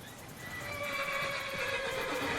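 A horse in the Skyrim game gives a drawn-out whinny, loud and close, rising and wavering for about two seconds over faint background ambience, with no voices.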